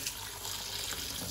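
Boiled macaroni is rinsed in a colander under a running tap, giving a steady close hiss and splash of water with no talk.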